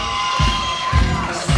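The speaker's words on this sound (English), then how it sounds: "the fans are waving their hands and clapping and getting excited" Arena crowd cheering and clapping as a wrestler makes his entrance, a steady roar of fans with louder surges of noise rising in bursts.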